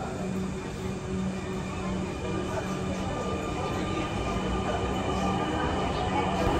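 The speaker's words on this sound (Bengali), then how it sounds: "এই স্টেশনে ট্রেনটি অনলি 30 সেকেন্ডের জন্য দরজা ওপেন হলো, এখন আবার ছেড়ে যাচ্ছে।" A Dhaka Metro Rail train pulls away from a station, its motors and wheels building into a steady, loud rumbling hum with a faint whine, heard from close by.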